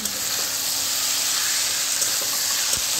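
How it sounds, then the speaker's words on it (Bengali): Water hits a pan of sizzling Bengali fish curry masala with green chillies, a loud steady hiss and frying crackle filling the whole moment, close and unbroken. "জলটা দিয়ে দিচ্ছি।"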